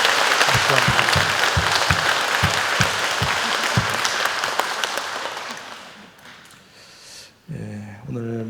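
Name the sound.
audience applause at a church lecture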